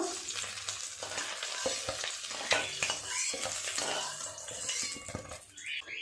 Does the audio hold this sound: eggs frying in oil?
yes